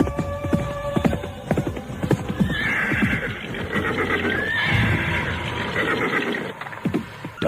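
A white horse gallops with rapid, heavy hoofbeats, then lets out a loud, drawn-out neigh that rises over the pounding and fades as the hooves keep thudding close by.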